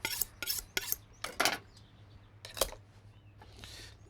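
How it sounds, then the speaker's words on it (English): A knife cuts through a rack of braised barbecue pork spareribs, making several sharp, close rasping and scraping strokes with short pauses between them and a final crunch partway through. "In order to fit these things in a pan, we need to cut them in half."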